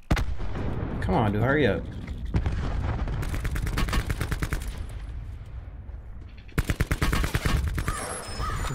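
Rapid bursts of gunfire in a first-person shooter battle royale match, several volleys of sharp shots with a distant-sounding boom between them, while a player speaks briefly under the action.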